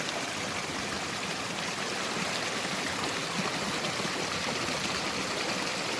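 Stream of water pouring steadily at a found water source near Magadan, a continuous close, broadband rushing and trickling with no talk over it.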